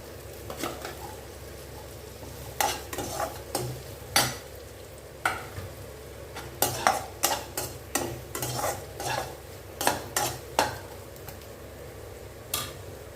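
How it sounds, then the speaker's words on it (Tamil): Onions sautéing in a pan with salt while making paneer butter masala, a spoon scraping and stirring in repeated sharp strokes over a low, steady sizzle, close and clear, no voices. "கொஞ்சம் உப்பு சேர்த்து வதக்கிக்கோங்க நல்லா வதங்கி வரட்டும்"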